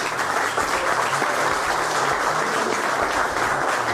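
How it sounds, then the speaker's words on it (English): Steady, dense applause from an audience at DetailFest, Autogeek's car-detailing show, filling the room evenly and loudly from start to finish without a break. "How about a hand of applause for Joe?"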